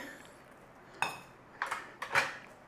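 Bacon and potatoes with parsley are stirred in a pan, heard as a few distinct utensil clinks and scrapes against the pan over low background noise.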